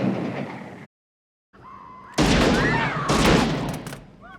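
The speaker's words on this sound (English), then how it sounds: "they decided to fix it by putting in the appropriate gun sound" A .44 Magnum gunshot effect from a Dirty Harry film, a loud sharp blast after a short silence followed by reverberant crashing noise and a second burst, with faint voices before.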